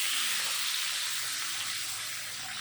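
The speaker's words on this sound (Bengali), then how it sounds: "এখন এই পাশ ওই পাশ করে মাছ ভালো করে ভেজে নেব।" Fish coated in turmeric and salt frying in hot oil, a steady, dense sizzling hiss that fills the whole moment without pause, close and fairly loud, with no voices.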